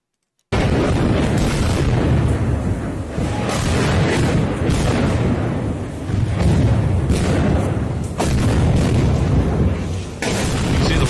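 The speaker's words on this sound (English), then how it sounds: "that's what a grad barrage sounds like when you're pretty much in the middle of it" Grad rocket barrage exploding in a city, heard from right in the middle of it: loud, dense, continuous rumbling booms and blasts, with several sharper bursts standing out.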